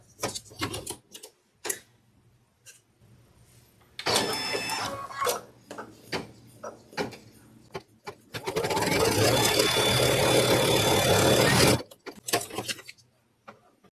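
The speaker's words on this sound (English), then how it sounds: "I'll press embroidery, and I'll be doing the placement stitch directly onto the stabilizer." An embroidery machine stitches a placement line onto stabilizer, bursts of rapid mechanical clatter broken by pauses, with a longer sustained run of stitching toward the end and a few quieter clicks between.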